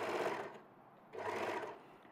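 A sewing machine runs in two short bursts of rapid stitching separated by a brief pause, close and moderately loud, with no voices.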